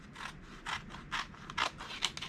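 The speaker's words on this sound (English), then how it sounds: "I'm just going to cut along this strip right here" Scissors cut along a paper strip for a card, giving a quick run of about seven crisp snipping crunches, close and quiet, with no talking.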